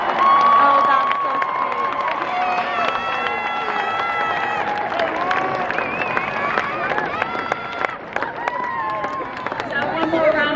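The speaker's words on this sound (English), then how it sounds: "Let's have one more round of applause for these students." Graduation ceremony audience applauding and cheering, a loud continuous crowd roar of clapping, shouts and whoops with music-like tonal lines and chatter mixed in throughout.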